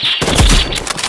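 Sniper rifle fire on a video game shooting range: a short burst of sharp, loud shots cracking in quick succession, close up and without talk.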